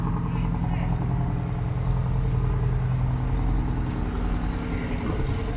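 Semi truck idling at a truck show at a truck stop, a steady low diesel rumble that holds at the same level throughout, with voices faintly mixed in.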